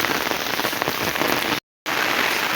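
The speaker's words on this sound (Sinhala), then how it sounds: "වහිනවා." Heavy rain pours steadily and loudly nearby, a dense unbroken hiss of drops on surfaces, with a brief dropout of sound partway through.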